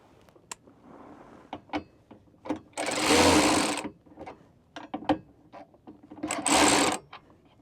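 A 13 millimeter ratcheting wrench tightens screws on tow mirror lights of a RAM 3500, giving two sustained buzzing ratchet bursts amid scattered clicks and handling taps, close to the microphone.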